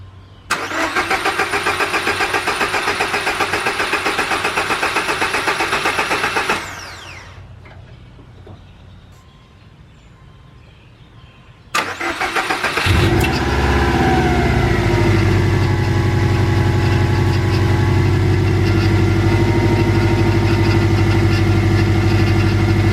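Subaru Legacy GT engine fitted in a go kart, cranking loudly for several seconds, going quiet, then firing up and settling into a steady, loud close-up idle.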